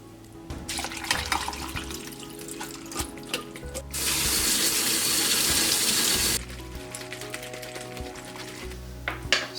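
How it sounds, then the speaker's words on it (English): Canned jackfruit being drained and rinsed at a sink: a tap gushes steadily for a few seconds, framed by lighter splashing and trickling water, close by with no voices. "we need to then drain and rinse the jackfruit"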